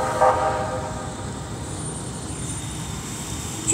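A passing train gives a steady, continuous low rumble with a brief horn-like tone near the start, heard alone with no talk.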